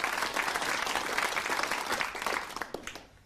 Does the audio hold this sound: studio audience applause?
yes